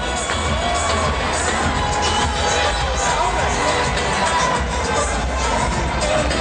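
Large boxing arena crowd at the Evander Holyfield–John Ruiz fight roaring and cheering steadily, a dense, loud wall of shouts and whoops with high voices cutting through, no clear talk on top.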